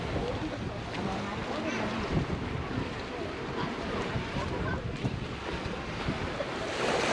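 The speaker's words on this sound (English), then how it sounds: "here we are at the beach of the new town of Sozopol" Steady wash of surf and wind on an open beach at Sozopol, Bulgaria, a continuous rushing roar with no distinct breaks.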